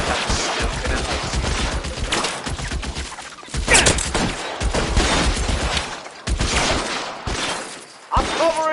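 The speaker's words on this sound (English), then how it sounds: "Lay down some covering fire" Gunfire in the video game L.A. Noire, loud dense bursts of shots crackling in rapid clusters across the whole stretch, broken by brief pauses, with a few shouted voice fragments mixed in.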